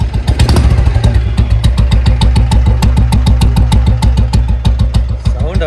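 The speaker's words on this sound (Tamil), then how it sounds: "துப்பு துப்பு துப்பு துப்புன்னு இன்ஜின் சவுண்டை பாருங்க" A Royal Enfield Bullet 350 single-cylinder motorcycle engine idles loudly and close by, with a steady, deep thumping beat throughout.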